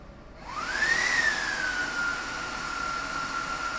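A Mellanox network switch's fans spin up during a reboot with a rising whine that settles into a steady high-pitched hum, loud and close over a faint background hiss.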